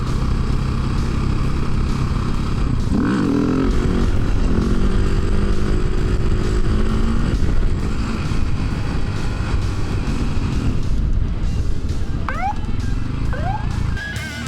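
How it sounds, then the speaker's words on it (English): A motorbike held up on its rear wheel in a wheelie, its engine droning loudly and steadily on a road, with passing traffic noise mixed in and no speech. "This biker got caught doing a wheelie."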